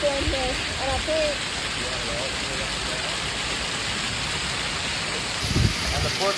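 A steady, dense roar of heavy rain falls during a storm, constant and close, with brief muffled voices and a thump near the end.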